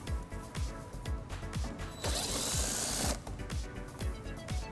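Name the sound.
8mm socket ratchet removing screw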